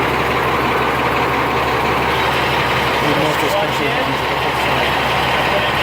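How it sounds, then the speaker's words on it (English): A heavy diesel semi truck engine rumbles steadily at idle during a brake test, loud and close, with a constant low drone and no break throughout. "I release my tractor brakes, so I'm testing my trailer brakes"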